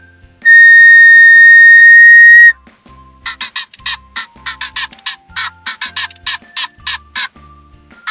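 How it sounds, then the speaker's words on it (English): Small toy whistle blown once in a loud, steady, shrill tone for about two seconds, followed by a rapid series of short chirping beeps from a singing toy penguin answering it. "I'm just going to blow into this little whistle."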